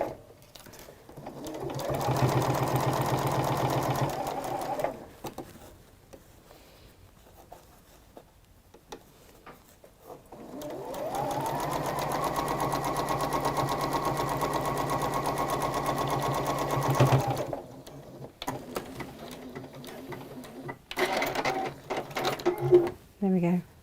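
A domestic sewing machine stitches fabric in two long steady runs, its motor whirring evenly with short pauses between bursts and a few quieter clicks and handling noises after.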